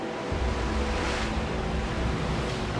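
Ocean waves wash chunks of ice onto a frozen shoreline: a steady, close roar of surf with wind rumble and no pauses.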